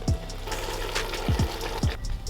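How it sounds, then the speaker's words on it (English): Groundnut paste is poured into a pot of Ghanaian groundnut soup cooking with local chicken, giving a few thick, low gloopy plops over a steady simmering background. "So I'm going to pour my groundnuts on this, and then we continue cooking it."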